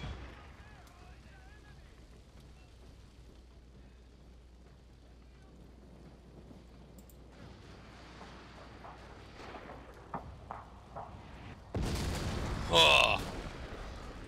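Cannons fire in a battle in Total War: Shogun 2 Fall of the Samurai: a long, quiet battlefield rumble with scattered distant thumps, then a heavy, loud boom near the end, with someone talking over it.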